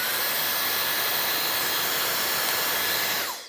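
Evelyn Smart Shot high-speed hair dryer running at fan speed level 2, a loud, close, steady airy whoosh with a faint high whine that holds constant before cutting off abruptly at the end.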